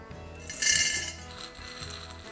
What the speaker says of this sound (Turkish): Kavanozlara birer avuç nohut ve bulgur atacağım.